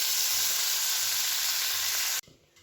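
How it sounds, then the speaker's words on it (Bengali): Amudi fish dipped in besan batter frying in a wok of oil, a loud, dense hiss of bubbling oil that stops abruptly, leaving quiet handling noise. "আমুদি মাছে ফ্রাই করার জন্য আমি কড়াই তেল দিয়ে দিয়েছি, আর এখানে মাছটা বেসনে ডুবিয়ে নিয়েছি"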